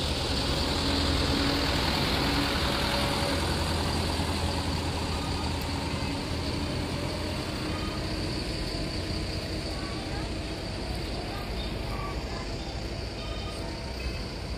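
Several Damri buses parked at the Mendolo bus terminal in Wonosobo, their diesel engines idling in a steady low rumble with a constant hiss, continuous and fairly near, with no other clear sounds over it.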